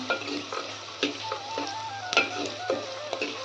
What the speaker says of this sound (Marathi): यात टाकूया आपण लसूण पाकळ्या सगळ्यात टाकायचे छान लाल होईस्तोर परतून घ्यायचं